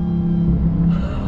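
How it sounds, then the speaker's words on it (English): A 2021 Dodge Charger Hellcat Redeye burbles through its exhaust on a downshift, a low steady rumble that stays close and loud with no talk over it. "Little burble from that exhaust."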